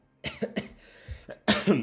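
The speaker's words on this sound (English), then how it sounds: "Sorry for coughing." Several short, throaty coughs in quick bursts, close to the microphone, with a brief pause before a final louder pair.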